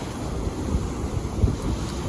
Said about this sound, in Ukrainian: Бачите, які хвилі сьогодні.